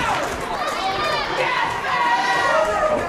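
Wrestling arena crowd cheering and shouting in approval during a Kraken TV match, a dense, steady roar of many voices with high excited yells rising and falling throughout.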